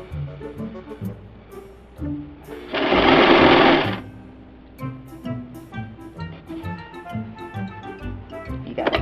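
Sewing machine stitching fabric with elastic in a short loud burst of rapid needle whirring, lasting about a second, set between quieter handling noises and brief clatter.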